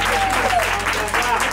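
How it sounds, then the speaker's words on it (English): Audience applause at an evening red carpet awards event, a dense continuous wash of clapping from a crowd, loud and close, with voices mixed in. "Give Joanne and Artworks for you a round of applause."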